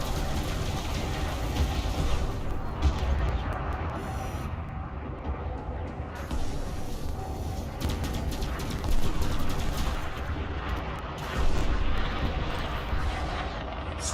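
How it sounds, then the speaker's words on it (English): Explosions and weapon fire in the space combat game Elite Dangerous, a dense continuous barrage of booming blasts with rumbling low end, swelling louder around the middle and near the end. "Explosions!"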